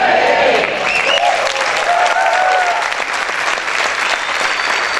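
A church congregation applauding loudly and continuously for several seconds, a dense crowd of clapping with a few voices faintly mixed in.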